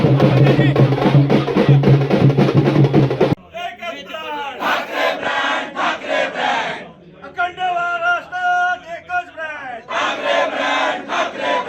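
Party workers from Sena and MNS celebrate an alliance announcement in Nashik and Pune, a loud outdoor crowd shouting slogans in rhythmic bursts, near and energetic, with chanting voices rising and falling throughout.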